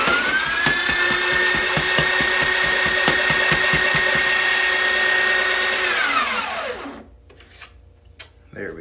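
Breville Barista Express built-in burr grinder grinding coffee beans: a loud, steady whirring grind with a rising whine that winds down near the end, followed by a few faint clicks.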